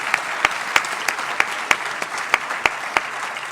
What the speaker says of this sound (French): Ils méritent encore de les applaudir.